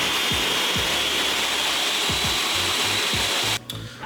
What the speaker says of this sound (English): I'm gonna go ahead and blend this on up.